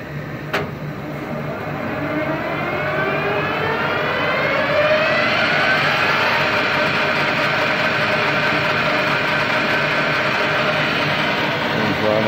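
A Clausing Colchester 13" x 40" metal lathe winds down to 1000 RPM and runs on steadily, its motor whine gliding in pitch over a constant mechanical hum.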